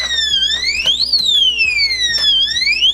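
Ollieroo solid steel electronic pistol safe alarm blares a loud, continuous electronic siren that sweeps up and down in pitch, alone with no talking.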